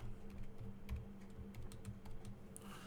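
Steady, quick keystrokes tapping on a computer keyboard while a line of code is entered into an empty Python script, with a faint low hum beneath the clicks.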